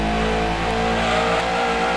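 A Lancia Stratos race car in the Gran Turismo 2 video game holds a loud, steady, buzzing engine drone at high revs, close and unbroken for about two seconds.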